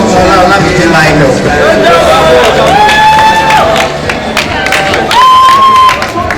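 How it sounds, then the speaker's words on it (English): Audience at a university veterinary graduation ceremony inducting new graduates, clapping and cheering loudly throughout amid crowd babble and whoops, with music or tones running beneath. "Applause."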